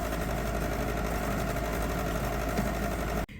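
A bread machine kneading dinner roll dough, giving a steady motor hum and rhythmic whirring churn that runs without pause and then cuts off abruptly at the end.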